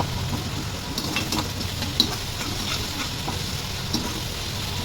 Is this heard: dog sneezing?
no